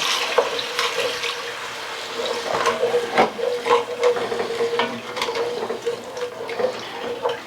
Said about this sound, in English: We'll deglaze with our beef broth.